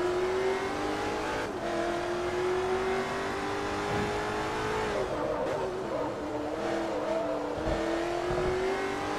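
Porsche race car in Forza Motorsport 3 revs steadily, its engine tone rising and dipping through gear changes with occasional tire squeals, a continuous moderate drone with no talking.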